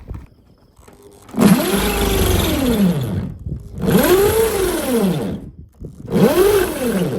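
A power drill whirs up and winds down three times in separate bursts, its pitch rising and falling with each run, close by.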